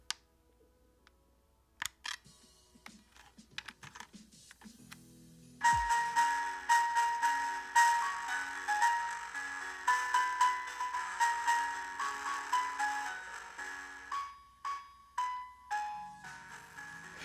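DJI Mini 3 Pro drone starting up with an odd sound: faint clicks at first, then a loud, sustained tonal whine with rhythmic pulsing beeps and shifting pitches, close and without talking.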